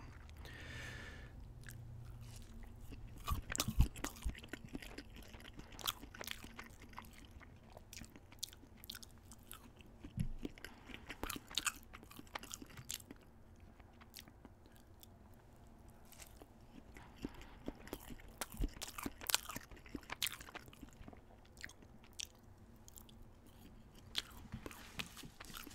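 Crispy breaded chicken nuggets are bitten and chewed up close, with soft repeated crunches and wet chewing at a low level, continuous and steady with occasional louder bites.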